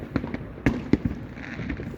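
Fireworks burst in a quick series of sharp bangs, three louder cracks standing out amid a crackling, rumbling outdoor backdrop, with a dense patter of smaller pops trailing off afterward.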